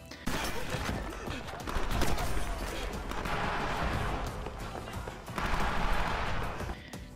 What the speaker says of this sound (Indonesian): ia diberondong senjata oleh seseorang yang tidak tahu dari mana asalnya